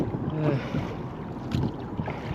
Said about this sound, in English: I can get used to this rowing